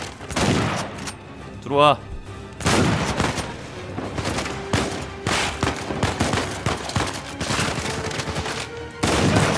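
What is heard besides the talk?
gunfire in the video game Uncharted 4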